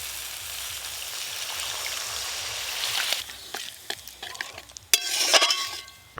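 Spice masala for rohu fish kalia frying in a pan, a continuous sizzle broken by scraping stirring strokes that grow busier and louder toward the end, with no voices.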